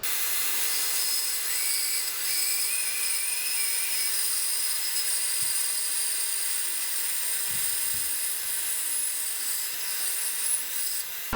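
A power tool trimming and beveling a wooden guitar neck toward the headstock, a steady high-pitched whirring grind running throughout with a few faint knocks, fairly quiet and without speech.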